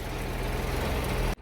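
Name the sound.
tractor engine while ploughing a field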